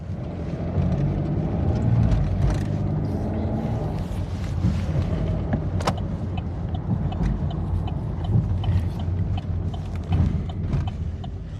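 A car drives steadily with a continuous low engine and road rumble, occasional clicks and knocks inside the cabin, and some wind noise, with no clear speech.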